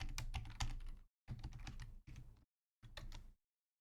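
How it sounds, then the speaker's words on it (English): Keys clatter on a computer keyboard as a password is typed in four quick bursts with short silent pauses between them, close and quiet. "I have to type in my password"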